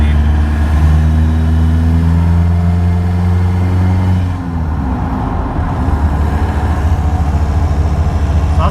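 TDI diesel-swapped Toyota on 35-inch tires with 4.10 gears accelerating toward 60 mph, a loud steady engine drone rising in pitch through a gear, dipping briefly at a shift, then settling into a constant cruising hum heard from inside the cab.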